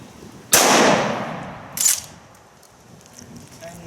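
Sharp, loud shotgun blast from a shotgun fired at a tripod outdoors, followed by a second, weaker report about a second and a half later, with faint background noise after.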